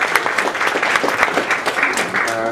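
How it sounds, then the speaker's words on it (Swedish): A lecture audience gives a warm round of applause as a speaker is welcomed, dense steady clapping filling the room for a couple of seconds. "en varm applåd till honom"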